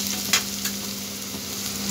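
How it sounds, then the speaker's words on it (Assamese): Crushed ginger and garlic fry in hot oil in a pan, giving a continuous close sizzle with a few soft stirring scrapes. "এতিয়া আদা নহৰুখিনি ভালদৰে অলপমান ভাজি লম ৰঙচুৱা কৰি।"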